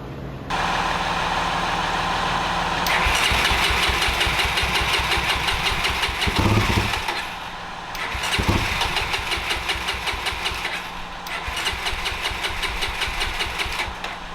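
A 1989 Honda NX250 motorcycle engine with carburetor and clutch problems runs roughly up close, revving then sagging and faltering, unable to hold RPM for more than a few seconds, with stumbles and restarts and no talking.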